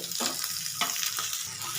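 Gentle, steady sizzling of katla fish pieces frying lightly in oil, with a few brief stirring scrapes, close by and without talk.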